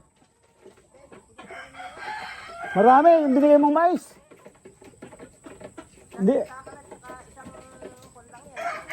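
Chickens cluck and a rooster-like call rises briefly amid speech, with short fowl vocalizations scattered through the clip.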